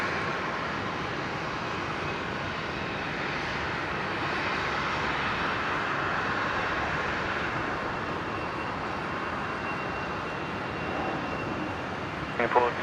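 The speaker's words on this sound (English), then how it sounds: "The Fokker 70 operating Virgin 1265 heading to Emerald." A Fokker 70 airliner taxiing at Brisbane International Airport, a steady, loud jet engine roar and whine that holds evenly throughout, with a brief clunk right at the end.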